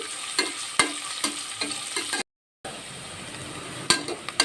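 Long-sliced onions fry quietly in a pan with a soft steady sizzle, broken by repeated light scraping stirs and clinks of a utensil, plus a brief silent gap midway.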